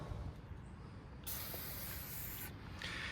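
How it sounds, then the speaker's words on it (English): Aerosol can of Shield fogging oil spraying: a close, steady hiss in two long bursts with a short pause between them, with no voices. "So that Shield has a great foaming action once it's sprayed."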